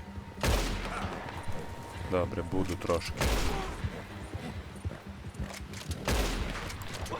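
Sharp bursts of gunfire in Red Dead Redemption 2 crack out in three loud volleys, with someone talking between and over the shots.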